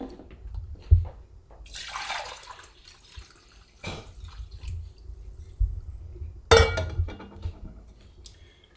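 Sugar-water nectar poured into a hummingbird feeder over a kitchen sink, with a short trickling splash, scattered drips and sharp clinks of the feeder and glass, close and fairly quiet.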